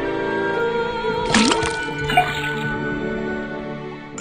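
Water dripping from a tapped faucet in the video game Detective Grimoire, a few liquid drips and a short splash over a steady background game tone, with no talk.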